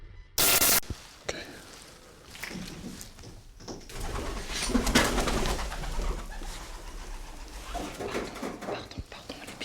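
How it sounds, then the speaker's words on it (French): Pigeons cooing inside an abandoned school building in Brittany, soft calls under rustling, footsteps and low whispered voices, with one sharp loud bang near the start. "Pardon, les pigeons."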